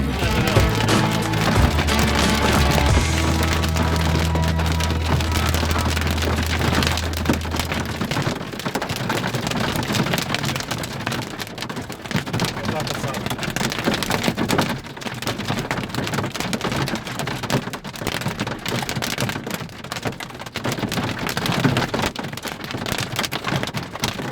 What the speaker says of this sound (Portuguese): entramos inclusive no seu núcleo, onde fomos novamente presenteados com granizo de grandes dimensões